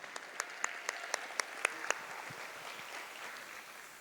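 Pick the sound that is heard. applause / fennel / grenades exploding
applause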